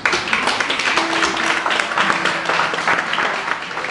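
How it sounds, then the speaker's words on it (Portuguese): Church congregation applauding for Jesus, a dense, steady wash of many hands clapping at close range, with faint voices mixed in. "Dê um aplauso para Jesus."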